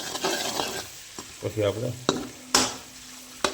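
Paneer cubes fry and get stirred in hot butter, bursts of sizzling and scraping strokes in the pan, with a brief voice talking in between.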